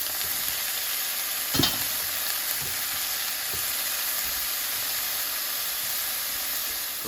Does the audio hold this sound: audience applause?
no